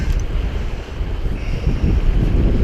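Wind gusting hard across the microphone beside the Gibbon River in Yellowstone, a loud, rumbling buffet that swells and dips with no voices.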